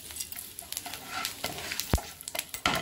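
Cumin seeds and cinnamon crackle in hot butter, a brief close sizzle broken by quick spoon scrapes and one sharp knock against the pan.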